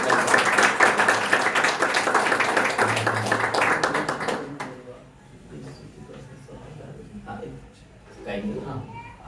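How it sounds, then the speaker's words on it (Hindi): Loud clapping from a church congregation fills the first few seconds, then stops abruptly, leaving faint room noise and scattered taps. "प्रभु के दास को आइए वचन की सेवकाई के लिए फिर एक बार ताली बजाकर"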